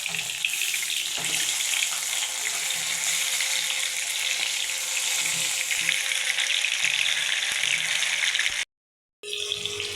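Fish frying in oil on a dosa pan, a continuous bright sizzle close up with faint scrapes, cutting out briefly near the end before resuming.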